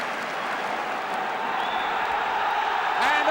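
At the 1971 FA Cup Final between Arsenal and Liverpool, a large stadium crowd applauds in a broad, continuous wash of clapping heard from a distance, swelling toward the end.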